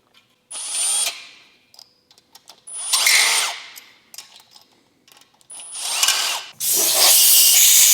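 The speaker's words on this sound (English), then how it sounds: "If I see any boogered threads, I will go ahead and chase those." Threads being chased in the engine block of an Evo 8 under rebuild: three separate bursts of whirring power-tool drive, each cutting in with a high whine and stopping, ending in a sustained rough grinding, close and loud, with no talking.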